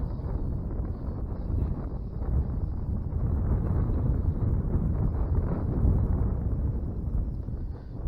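Steady wind buffets a microphone outdoors on open water during a late-December bass fishing trip, a continuous low, rushing rumble with no voices.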